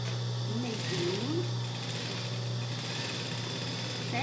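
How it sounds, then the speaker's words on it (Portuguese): Sewing machine stitching a seam down the middle of a child's shorts, a steady low motor hum with fast rhythmic needle chatter running continuously underneath, fairly faint, while a voice speaks over it. "agora a gente vai passar a costura aqui no meio"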